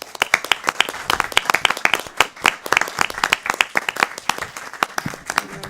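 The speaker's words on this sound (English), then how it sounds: "Which deserves a round of applause." Applause at a city council meeting, a room of people clapping with crisp, individually audible claps, moderately loud and close, sustained for several seconds.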